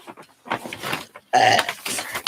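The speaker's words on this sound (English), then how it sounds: "Burping online." A woman burps loudly at close range, with a few short guttural belches between brief bits of her talking.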